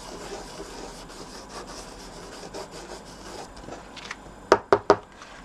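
A fingertip rubs glitter over heat-and-stick adhesive on a papercraft Christmas globe ornament, making soft, steady close scratchy rubbing, followed near the end by three sharp taps.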